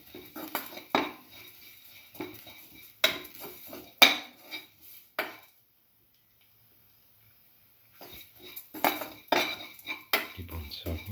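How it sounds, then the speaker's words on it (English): A utensil scrapes and clanks against a pan while egg stir fry with black pepper is sautéed, in irregular bursts of clatter with a quiet pause in the middle. "keep on sauteing."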